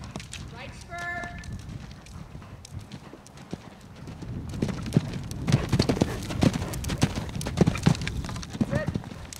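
A ridden horse's hooves clip-clop in a steady rhythm on a farm, close and clear, growing louder and busier midway, with a brief whinny early on and an instructor's voice coaching over the footfalls.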